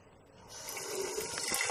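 Water is poured over a Nokia 105 mobile phone, a short splashing, rushing stream that grows louder over under two seconds, with no talking.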